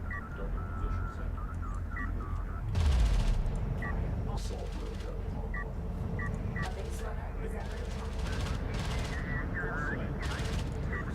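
An assault railgun firing in the strategy game Deserts of Kharak, with a rapid burst of crackling shots and a low boom amid ongoing battle noise, several further bursts following, all moderately loud.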